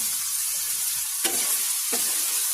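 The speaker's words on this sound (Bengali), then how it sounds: "টমেটো এবং কাঁচামরিচ হালকা একটু মাংসের সাথে ভেজে নিব।" Tomato and green chili frying with chicken meat in a pan for chicken noodles, a steady broadband sizzle with two sharp stirring scrapes, close and alone.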